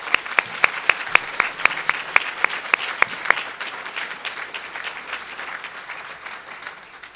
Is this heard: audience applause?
yes